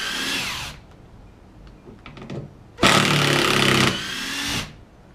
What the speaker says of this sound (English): You'll hear the impact for a certain distance on the screw and then you'll see it just turn to a normal actual screwdriver as it comes out